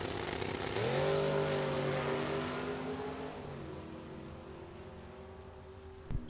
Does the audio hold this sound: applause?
no